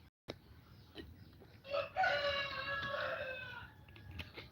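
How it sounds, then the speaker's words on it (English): Farmyard chickens with a rooster crowing loudly and nearby, a long drawn-out crow rising after a few soft clucks and scattered knocks, with no talk over it. "We just love the sound of those chickens."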